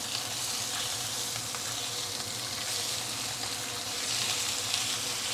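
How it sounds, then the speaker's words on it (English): Fish charring in a hot pan gives a steady, close sizzle and crackle of frying oil, continuous and fairly loud with no voices. "Let's pan fry the fish until it is charred."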